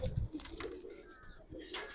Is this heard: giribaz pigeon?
yes